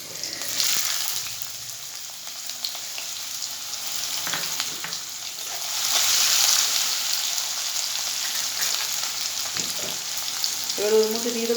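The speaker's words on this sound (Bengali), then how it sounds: "সেই সিদ্ধ করে রাখা ছোলার ডালটা আমি তেলের মধ্যে দিয়ে দেবো।" Boiled, overnight-soaked chana dal frying in hot oil, a continuous loud sizzle that swells midway, with occasional stirring scrapes and a brief voice near the end.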